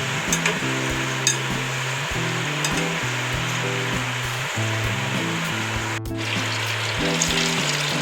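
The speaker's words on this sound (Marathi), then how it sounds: "त्याला छान असा गोल्डन कलर येईपर्यंत तळून घ्यायचा आहे" Modak deep-frying in hot oil until golden, a steady bright sizzle and bubbling that runs continuously at close range, with no talk.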